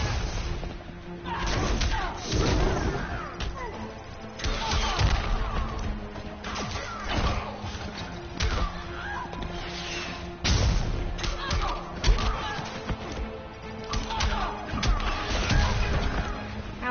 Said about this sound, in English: Wow, these missiles are annoying.